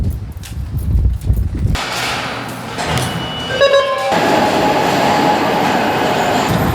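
A Market-Frankford line subway train at 40th Street Station in Philadelphia rumbles in close and loud, with a brief metallic wheel squeal that gives way to a steady, dense roar of rolling cars.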